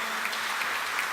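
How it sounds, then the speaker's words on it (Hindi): Audience applause at a speech event honouring actor Mukesh Khanna, a steady dense wash of clapping filling the whole moment at moderate level with no voices heard. "जोरदार तालियों से अभिनंदन करें।"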